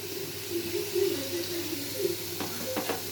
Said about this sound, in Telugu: ముందుగా నూనె పోసుకొని కొబ్బరి ముక్కలు నాలుగు పచ్చిమిరపకాయలు వేసి కొంచెం వేగిన తర్వాత వేసాను